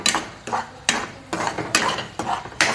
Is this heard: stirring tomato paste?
yes